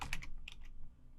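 Quick bursts of keystrokes on a computer keyboard as a name is typed in, close and clear, with no voices.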